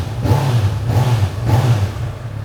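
Three quick throttle blips from a 2018 Honda CB1000R motorcycle rise and fall over a deep idle rumble, evenly spaced, loud and close with no talking.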